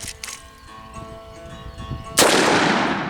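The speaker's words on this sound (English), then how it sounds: "we're gonna have it go with the 357 now. Considerably more power. You're gonna see it in the recoil itself, and you're gonna hear it in the boom." A Colt Lawman Mk III revolver fires a .357 round in double action, one sharp, loud close-range boom with a broad blast that rings on and fades over the next second, after a stretch of quieter background.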